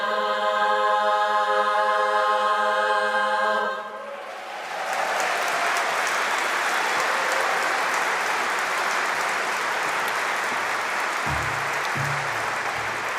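A harmony chorus's sustained final chord fades out, then loud, steady applause with some cheering fills the rest, continuing without pause.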